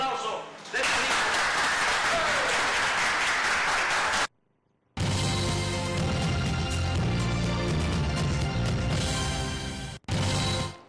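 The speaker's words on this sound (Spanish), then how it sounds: "¡Un fuerte aplauso!" Audience applause at a live-broadcast local TV event, a sustained burst of clapping mixed with loud music and voices, briefly cut off mid-clip before resuming.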